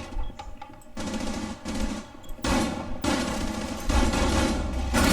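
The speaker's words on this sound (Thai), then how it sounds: "ยิงกูอยู่ไอ้ต้น" Automatic gunfire in Rainbow Six Siege, bursts of rapid shots aimed at the player, comes in several loud rattling volleys separated by brief pauses and growing denser toward the end.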